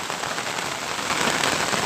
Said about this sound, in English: So when the rain falls,